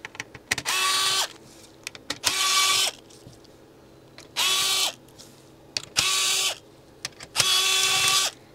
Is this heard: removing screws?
yes